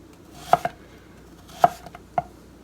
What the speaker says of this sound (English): we're just gonna slice the apples